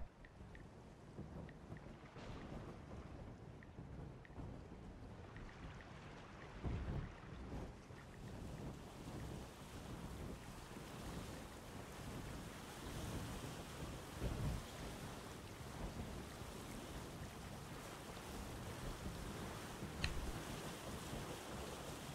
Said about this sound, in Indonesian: Banyak petir-petir gitu, mengerikan.